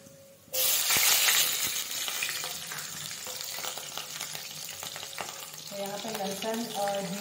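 Cumin, garlic cloves and chili hit hot oil with a sudden loud sizzle, then a sustained crackling fry with scattered pops and some clinking of a utensil.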